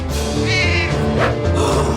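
Kittens meow in a busy indoor scene, with thin high cries rising over a dense, loud bed of background noise and voices throughout.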